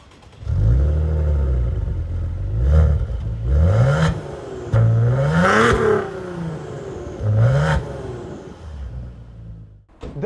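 A Maserati Ghibli engine revs in several sharp bursts, each note rising and falling with a rough, rasping edge, close and loud with short pauses between.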